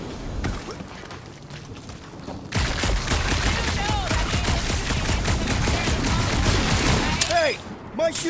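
Gunfire in the Guardians of the Galaxy video game on a dark monster planet, a quiet stretch giving way to loud, sustained rapid blasts of weapon fire mixed with whooshing effects, with voices talking over the action.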